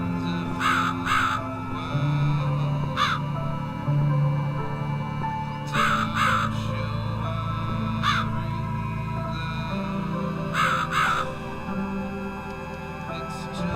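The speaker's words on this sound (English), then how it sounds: "Oh, fuck off, Crow." A crow caws repeatedly inside a video game, short harsh calls arriving in small clusters every few seconds over a steady droning music bed, moderately loud and close.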